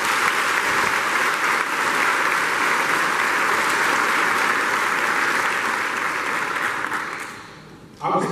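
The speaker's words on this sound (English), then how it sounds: "give Abby a round of applause." An audience at a 2024 STEM academy graduation ceremony applauds a graduate named Abby, a dense, steady wash of clapping that holds for several seconds before fading out.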